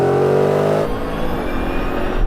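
Tesla Cybertruck and Ford F-150 Raptor R launching side by side in a drag race, a loud steady engine roar and whir that shifts abruptly partway through and carries on strongly to the end, with no talk.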